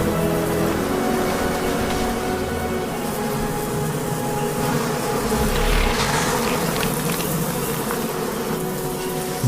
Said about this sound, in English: Nothing the bees can do deters this one.